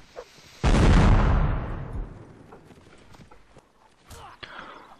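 A cannon in a multiplayer historical combat game booms with one loud, sudden blast that rolls off over a second or so, followed by scattered footsteps and small distant sounds.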